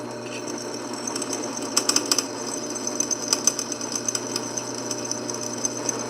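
A drill hums steadily while metal squeals and clicks intermittently as a cobalt bit bites into hard knife steel, with small irregular ticks throughout.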